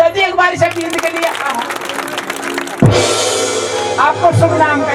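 At a folk stage show, a crowd breaks into applause partway through, preceded by someone speaking and followed by more voices over the clapping.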